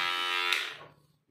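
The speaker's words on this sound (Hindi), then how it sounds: "ये मैं ट्रिमर ले लिया हूँ अपना" An electric hair trimmer for a home haircut runs with a steady, fairly loud buzzing whine close by, then winds down and stops about a second in, leaving near silence.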